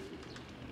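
A racing pigeon gives a soft, low coo from inside a competition loft, faint and brief against a quiet background.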